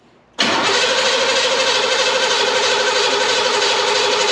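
After a brief quiet moment, a mud bog truck engine abruptly fires up and roars loudly at a mud bog event, holding a steady, powerful rumble to the end.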